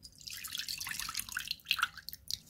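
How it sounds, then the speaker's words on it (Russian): Juice from grated carrots and cucumbers drained off into a sink for an enoki mushroom salad, heard as a steady trickle of liquid with brief drips, close and alone without talk. "Сок сливаем."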